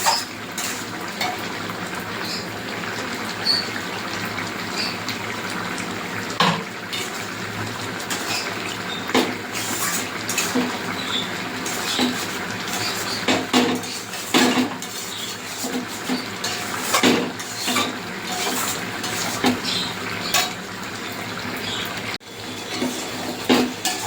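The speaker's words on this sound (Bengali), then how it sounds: "নারকেলটা একটু কষাতে হবে, লতির সঙ্গে একটু কষিয়ে নেবো ভালো করে।" A utensil stirs grated coconut and taro stolons frying in a pan, with repeated scraping clinks of metal on the pan over a soft, steady sizzle, close and clear with no talking.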